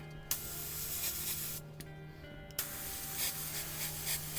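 An airbrush sprays base coat paint onto a miniature at lowered pressure, a close steady hiss that cuts out briefly twice before resuming.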